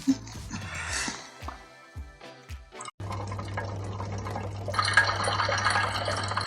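A man urinating, heard as a running, splashing liquid stream with intermittent drips, with a steady hum underneath and a louder trickling stretch toward the end.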